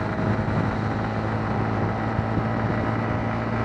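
A Honda CB125 Hornet motorcycle held at full throttle at about 100 km/h, a steady high-revving engine drone mixed with heavy wind rush, loud and continuous with no talking.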